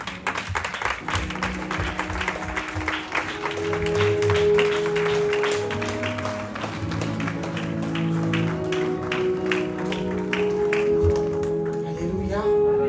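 A congregation at a night-long evangelical church gathering claps steadily in rhythm. Loud music and voices carry on throughout.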